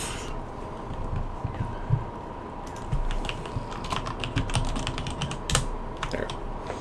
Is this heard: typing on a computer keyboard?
yes